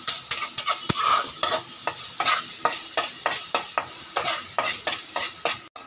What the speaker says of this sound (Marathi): आता हा मसाला फ्राय करून घेते, बघा छानपैकी तेल सुटलेलं आहे याला।